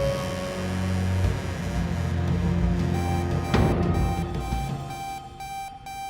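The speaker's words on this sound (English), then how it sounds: "kind of like a beep noise." A loud electronic beep holds a steady tone with a low hum beneath it, followed by a sharp click and a few fainter, broken beeps toward the end.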